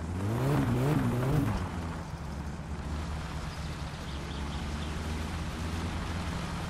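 Car engine in the My Summer Car video game, driven on a home street, revs hard with a rising, wavering roar, then settles into a steady loud drone, close and with no talking.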